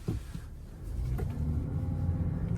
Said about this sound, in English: Basically, I can rev more now.